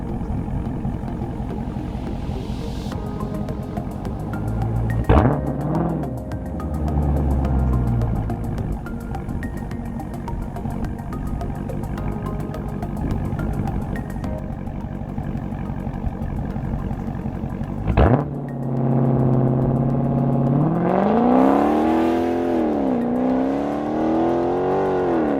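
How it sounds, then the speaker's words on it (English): A 2019-era Dodge Charger Scat Pack with a 6.4L V8 idles loudly, then revs hard twice under launch control, its engine note rising and falling through strong held revs, recorded from outside the car. "We'll do maybe one launch outside the car and maybe one inside the car for you guys"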